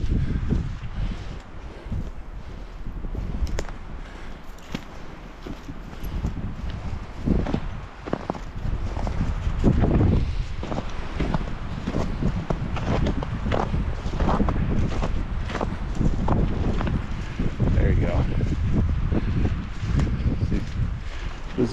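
Strong wind gusts in the Big Belt Mountains during a snowstorm, a broad continuous roar buffeting the microphone for the whole stretch, with rustling and a few thumps mixed in.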